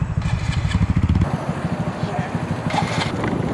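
An electric bike running outdoors, a steady low rumble with rattling and shaking, loud in the first second and then fading under background noise and people talking.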